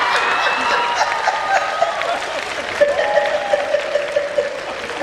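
An audience at a live comedy show keeps up sustained applause, a continuous patter of many hands with a few voices mixed in.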